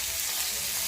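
Potatoes fry in hot oil with a dense, even hiss and sizzle that carries on without a break.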